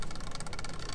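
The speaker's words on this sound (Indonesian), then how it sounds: "kalau bannya gue putar, ban depan gue putar, speedonya akan bunyi gini" A Vespa PTS Special 90 speedometer whirs as the front wheel is spun by hand, giving a faint, brief, rapidly pulsing mechanical buzz with no talking.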